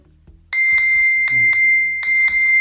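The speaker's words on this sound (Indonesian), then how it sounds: "smartphone kita akan bunyi." A smartphone rings after the find-phone feature on an Amazfit Band 2 smartwatch is triggered, playing a loud, repeated bell-like ringtone with steady rhythmic tones and no talking.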